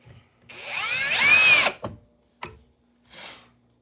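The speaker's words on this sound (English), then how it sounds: "this is a little difficult with 2 big hammer drills" A big hammer drill drives an 8-inch timber lock screw with a loud, close whir that climbs for over a second, then stops, followed by a couple of brief bursts.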